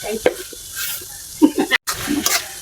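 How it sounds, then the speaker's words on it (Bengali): A spice paste of turmeric and chili powder with a little water and salt is stir-fried in a pan, heard as close, uneven scraping strokes with short sizzling bursts and a brief break. "মশলাটা ভালো করে কষাই আমার মশলাটা কষানি হয়ে গেছে"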